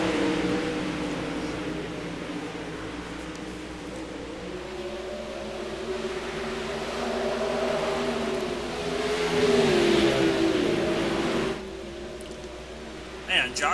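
Sprint-style race cars roar around the dirt oval at Knoxville Raceway during a six-car heat race, a steady, loud engine drone swelling toward the end, with an announcer talking over it.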